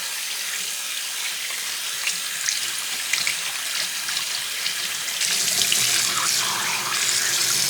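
Hot water running steadily from a tap into a sink or bowl, a continuous close hiss and splash that grows fuller and louder partway through, with no voices.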